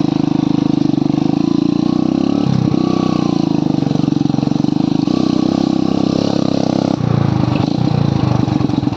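A new motorcycle rides up a hilly road, its engine droning loud and close throughout, with the pitch shifting briefly between gears partway through.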